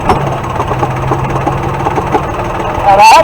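An engine idles steadily and loudly as a Motoalliance Impact Implements CAT-1 quick hitch lifts, with a brief rising mechanical whine near the end.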